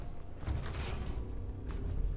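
A creaking, mechanical door opening in the video game Fallout 76, a sustained grinding creak over a low rumble, with a brief clunk near the end.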